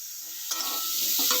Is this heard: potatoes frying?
yes